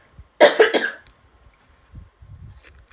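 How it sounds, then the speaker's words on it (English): A woman coughs close to the microphone in a quick burst of three or four coughs, followed by quiet shuffling and a faint low rustle. "Excuse me, I'm going to cough."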